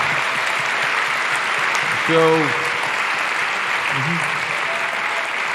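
Audience applause at an outdoor Save Soil event in Rome, a steady broad wash of clapping from a crowd that swells briefly around the middle, with a voice speaking briefly over it.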